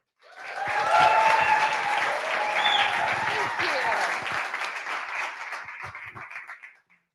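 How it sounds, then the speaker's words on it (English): Sustained audience applause at a pitch event, greeting the executive director of Grace Care Center, full and steady for several seconds before tapering off, with no talking over it. "please give a warm round of applause from Grace Care Center, the Executive Director, Kara Oxberger"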